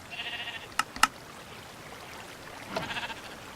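Sheep in a video game give a few thin, wavering bleats at the start and again near the end, moderately faint over a steady hiss, with two sharp clicks in between.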